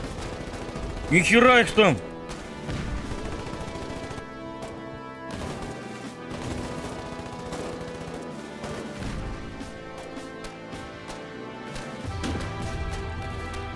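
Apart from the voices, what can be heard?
gunfire in video game Foxhole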